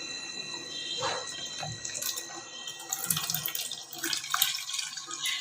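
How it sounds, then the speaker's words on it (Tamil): Blended gooseberry (amla) juice poured through a kitchen strainer, a soft steady trickle and splash of liquid with scattered drips, close and fairly quiet. "இதை அப்படியே ஒரு வடிகட்டியில் போட்டு நம்ம வடிகட்டி எடுத்துக்கலாம்."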